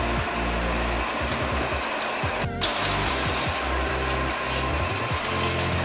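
Red palm oil is poured into a pot of Nigerian egusi soup with fish and stockfish, a close, wet trickle mixed with soft clicks and clatter, with no voices.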